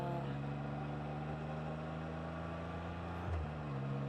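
A Can-Am Spyder cruises on the freeway, with a steady engine drone and road noise, strong harmonic hum and a brief shift in pitch near the end.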